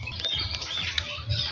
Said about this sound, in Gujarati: આ છે ને પોપટનો અવાજ છે.